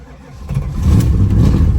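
A 1979 Chrysler 300 with a blown-out muffler revs up close, the engine swelling from a low rumble into a loud, raspy, throaty roar that holds steady for the last second.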